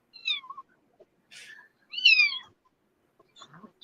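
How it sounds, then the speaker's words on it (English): A pet cat meows several times in quick, close bursts, its calls rising and falling in pitch between short pauses, with a fainter murmur of sound near the end. "My cat's going crazy now."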